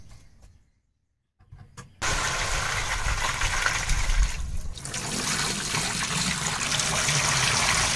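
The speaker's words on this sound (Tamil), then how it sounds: "பனம் பூவு இதில் போட்டு வடிகட்டி ஊற்றிடுறோம்" Palm sap is poured through a filter laid with palm flowers during palm jaggery making. After a few quiet seconds, a loud, continuous rushing pour of liquid begins and carries on to the end.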